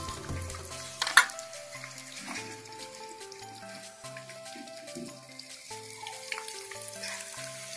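Chili and garlic frying in a pan for a mountain river fish curry, with a steady soft sizzle and occasional stirring scrapes. Close and fairly quiet throughout, with no talk over it.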